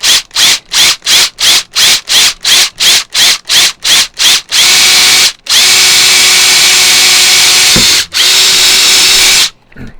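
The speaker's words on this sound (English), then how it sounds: "we're going to set up the drill hole" A power drill whines in rapid short bursts, then runs in two long continuous stretches before stopping; loud and close, with no talking.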